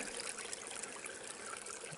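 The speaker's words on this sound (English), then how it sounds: "Close to the trailhead, we have some flowing water." Water flows near a wilderness trailhead in Arc Dome Wilderness, a steady broadband trickling and rushing that stays even and unbroken throughout, with no voices.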